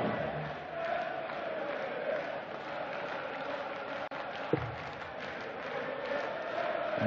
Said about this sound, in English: And the crowd now chanting the name of Mensur Suljovic